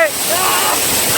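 Water pouring hard at Kodiveri waterfall, a broad, loud rushing roar close by, heard only in a short burst with wind buffeting the microphone.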